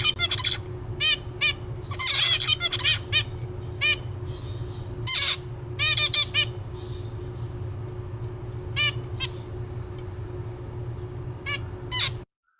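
Crows caw back and forth in loud, close bursts of several calls, separated by short pauses, over a faint steady hum.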